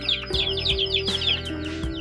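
Chickens cluck close by in a loud, busy run of overlapping clucks and short calls, with a steady low hum underneath and no speech.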